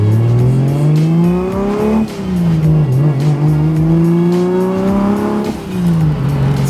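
A single-turbo BMW 135i with a manual gearbox revs up through the gears, its engine note climbing and dropping at each shift, with turbo whoosh and spool audible, loud and close from inside the car, no voices.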